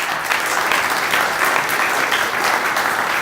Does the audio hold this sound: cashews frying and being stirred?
no